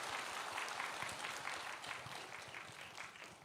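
An audience claps for the organizing committee chair during a welcome address at an ancestor memorial ceremony, a continuous, even patter of applause that sounds soft and distant.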